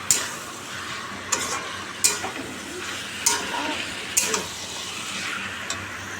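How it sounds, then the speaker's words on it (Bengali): Pumpkin sautés in a pan with salt and sugar, giving a soft continuous sizzle, while a spatula stirs and scrapes against the pan in several sharp, close clinks spaced through the sizzle. "এখন একটু কষাচ্ছি এটা এই গরম জল দিয়ে কষালে আরও বেশি ভালো হয়"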